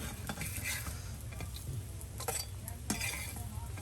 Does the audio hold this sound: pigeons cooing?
no